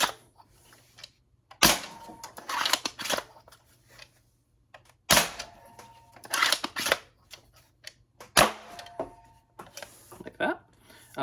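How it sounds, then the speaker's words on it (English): A bolt action toy blaster prototype being primed, with sharp mechanical clacks of the bolt and ball detent clicks in three bursts, spaced by pauses, while someone talks between them. "along with ball detent to make it nice and clicky"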